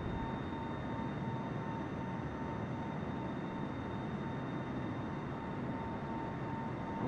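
A Boeing 747 airliner in Microsoft Flight Simulator 2020 takes off with a steady, loud, unbroken jet-engine roar and faint high whines, continuous throughout with no talking.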